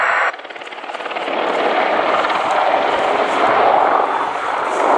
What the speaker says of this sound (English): uses the Apache's powerful tail rotor to turn the aircraft 180 degrees about the centre of the main rotor blades